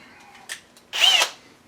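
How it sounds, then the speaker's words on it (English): Power drill backing out Phillips head screws on a 1965 Ford Mustang, a short whir followed by a louder, longer whine of the motor spinning up and down, close by with no talk. "use the old drill on it because I don't have time to mess around here"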